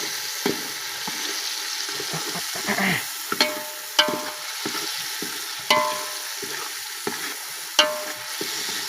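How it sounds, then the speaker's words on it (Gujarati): Prawns for biryani frying in a pan, a steady sizzle broken by repeated scraping and clanking stirs of the spoon against the metal, moderately close, with no talking. "તો આપણે હવે ઝીંગા નાખી દેવાના છે"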